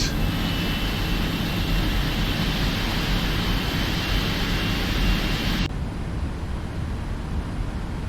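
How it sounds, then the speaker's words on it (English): A PMDG 777-200ER jet taxiing in the P3D flight simulator, a loud, steady engine roar and whine that continues unbroken, its high hiss dropping away abruptly near the end. "And just taxi graciously to our gate."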